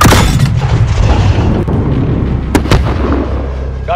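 Explosions and booming battle noise in Call of Duty: Modern Warfare during a night firefight with illumination flares, a loud continuous rumble with a couple of sharper blasts near the end.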